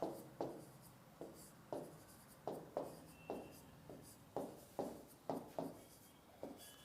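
Numbers written by hand, a series of quiet close scratchy pen or chalk strokes in an irregular rhythm, about fifteen short marks spread across the clip with no speech.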